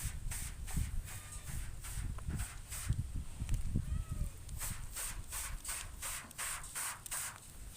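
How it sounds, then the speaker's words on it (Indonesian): Hardener sprayed from a spray bottle onto a dry screen-printing screen, heard as a series of short, repeated hissing bursts in fairly steady rhythm, close and moderately loud over light handling noise. "Tinggal kita semprotkan ke permukaan screen yang sudah kering."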